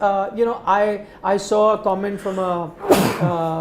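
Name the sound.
sneeze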